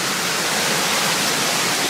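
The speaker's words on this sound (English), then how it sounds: "the rain has calmed down a bit and I can hear the waterfall" Waterfall on a hike after rain, a dense, steady broadband roar filling the whole clip, loud and unbroken, with no voices.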